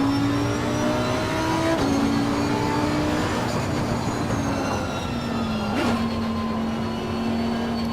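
Race car engine in the Assetto Corsa Competizione racing game, a loud, steady high-revving drone with a shifting pitch, a brief dip around a gear change, and no voices over it.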